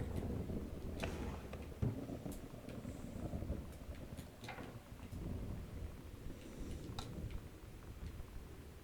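A thunderstorm in the video game Gone Home rumbles low and steady with rain hiss and occasional sharp cracks, fairly faint with no talk.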